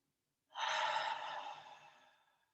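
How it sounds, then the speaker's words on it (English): A single slow, breathy exhale during a yoga breathing exercise, close and soft, swelling quickly then fading gradually over about two seconds, with no talk. "And another exhale."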